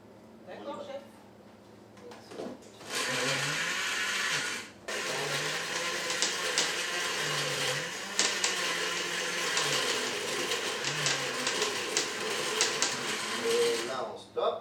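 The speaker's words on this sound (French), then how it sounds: "Maintenant, on va mettre ça au mixeur." A kitchen blender purees sauce ingredients, starting briefly, pausing, then running in a loud steady whir for about ten seconds before stopping, while voices talk over it.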